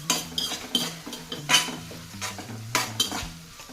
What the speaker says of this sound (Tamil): இது எல்லாம் நல்லா வதக்கணும்.